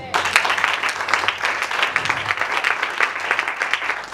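Church congregation clapping to acclaim the Lord at a French-language worship service, a dense, continuous round of applause with little else over it.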